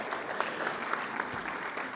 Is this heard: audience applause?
yes